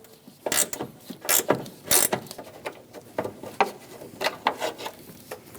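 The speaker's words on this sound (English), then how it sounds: "We're going to reach down in front here using a 13mm wrench. We're going to remove the bolt for the bottle." A 13mm ratchet wrench loosens the washer-reservoir bottle bolt on a Chevrolet Express 2500 van: close, uneven bursts of metallic ratchet clicking come in short runs with brief pauses between strokes.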